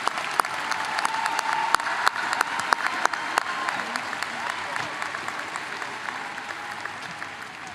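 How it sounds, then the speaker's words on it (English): A large audience at the Parkway Central High School 2023 graduation applauds the graduating students, sustained dense clapping with sharp individual claps standing out early, voices faintly underneath. "Please join me in one more round of applause for all of our students."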